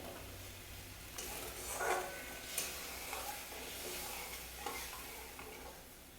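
A spoon stirs navratan korma thickened with ground nut paste in a pan, scraping and sizzling softly and continuously, with a few sharper utensil scrapes along the pan bottom.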